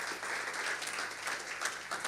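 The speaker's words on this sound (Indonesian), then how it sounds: "Tepuk tangan dulu untuk Tuhan." A church congregation at a Christmas service applauding, a dense, steady wash of many hands clapping together, fairly loud and sustained with no clear gaps.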